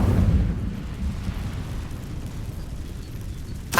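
A fiery burst cast with the Incendio spell in Hogwarts Legacy: a loud whooshing blast at the start that settles into a dense, rumbling roar of flames, with a short crackling flare at the very end.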